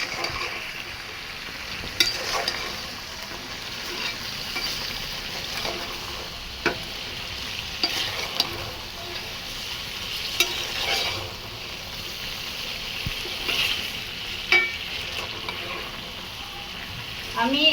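Beef lung frying in a pan for bhuna, a soft steady sizzle with occasional scraping and knocking of a spoon as it is stirred, close and fairly quiet.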